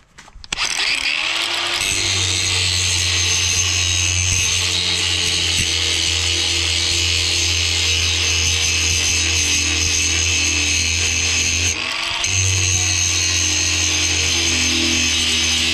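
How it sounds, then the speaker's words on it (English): A cordless grinder sharpens a clamped brush cutter blade for a compact track loader, starting up with a loud, continuous whine and grinding. It keeps running steadily and dips briefly before resuming. "Just using a little clamp here just to keep this thing from spinning around too much, and a cordless grinder."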